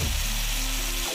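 Marinated chicken hits a hot pan for a Filipino chicken adobo in coconut milk, giving a loud, steady, close sizzle of frying that fills the whole moment with a constant hiss and no talking.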